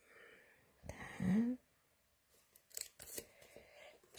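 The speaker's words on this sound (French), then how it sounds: "Je vais peut-être prendre mes petits ciseaux, je vais la couper." Small scissors cut paper, giving a few close, crisp snips and rustles in short bursts with quiet gaps between them.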